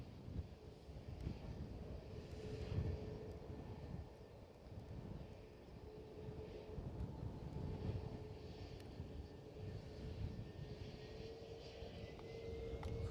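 An SAS airliner takes off from Edinburgh Airport for Stockholm, its broad jet roar steady and fairly distant, mixed with gusty wind buffeting the microphone.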